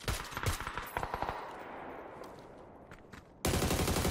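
Rapid bursts of gunfire in the battle royale game PUBG, loud and close for the first second and a half, then thinning to scattered distant shots before a dense, loud burst of noise cuts in at the end.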